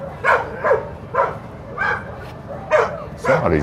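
Dogs at a dock diving competition give a run of loud, close barks and yips in an irregular rhythm, about seven sharp bursts over a low crowd murmur.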